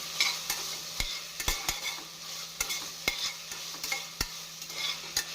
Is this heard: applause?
no